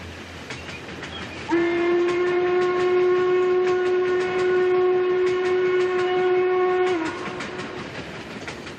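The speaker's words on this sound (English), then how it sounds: "Traveling to South Fork demanded less than a 2-hour train ride from Pittsburgh." A train rumbles steadily along its track, and its whistle cuts in with one loud, sustained blast lasting several seconds before fading back to the rolling rail noise.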